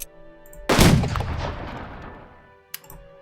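A single heavy artillery blast in the World War II strategy game Unity of Command II, booming loudly up close and rumbling away over two seconds, followed by a fainter sharp report.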